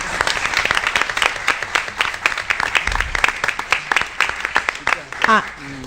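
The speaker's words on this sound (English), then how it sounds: "Can we give them a round of applause, guys?" A large audience bursts into loud, sustained applause, a thick rapid patter of clapping with a few voices and a cheer rising near the end.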